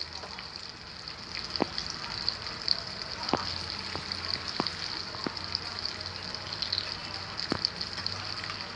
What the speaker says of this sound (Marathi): त्याच्यामध्ये म्हणजे पाणी टाकून घ्यायचं आहे